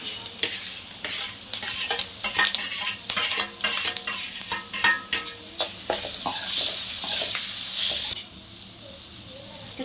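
Grated raw mango with green chilies and curry leaves fries in oil for mango pulihora, a constant sizzle under repeated scraping and clinking of a spoon stirring the pan, close and busy, quieting near the end.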